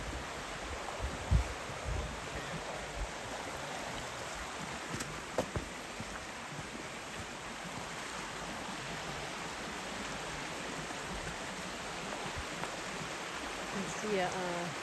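A river flowing beside a walking path, a steady broadband rush of water that stays even and continuous throughout, close by and fairly loud.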